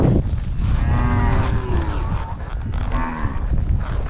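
Cattle moo loudly and close by during a cowboy's winter roundup of wild cattle, with two long drawn-out lows over a rumbling outdoor background.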